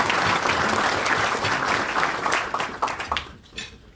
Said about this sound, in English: I think you should all give yourself a round of applause